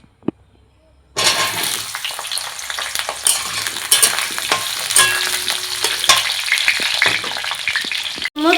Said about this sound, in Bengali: তেলটা আমার গরম হয়ে গেছে, এবার আলু ভেজে নেব